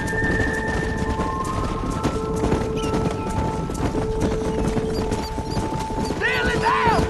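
Horse hooves clip-clop steadily during a cattle-herding ride in the video game Red Dead Redemption, mixed with game music and a voice talking over the action.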